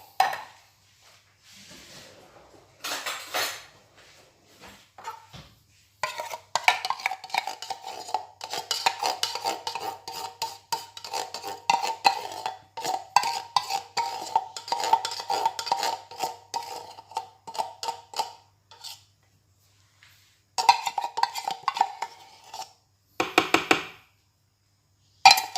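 Oreo ice cream mixture with condensed milk being mixed in a bowl, a long stretch of rapid scraping and whirring stir sounds that starts, stops and resumes, close up with no voices.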